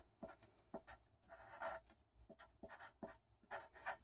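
Handwriting with pen on paper, very faint and close, a series of scratchy strokes with short taps and pauses, heard alone while writing out math.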